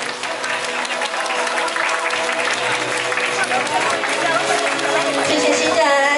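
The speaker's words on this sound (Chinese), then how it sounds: "现在请大家用最热烈的掌声祝福我们的新人幸福满满" Wedding guests applaud the newlyweds with continuous, full clapping that lasts throughout, blended with background music and chatter.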